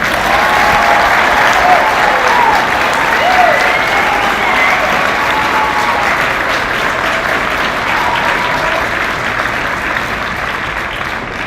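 A large graduation audience at the University of Arkansas applauds in a dense, steady wash of clapping that runs for the whole stretch, loud and close, slowly tapering toward the end, with a few faint voices mixed in.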